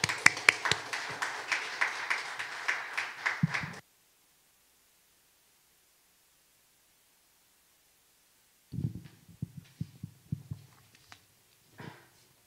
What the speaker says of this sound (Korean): 우리 격려와 응원의 박수, 기대 박수 부탁드립니다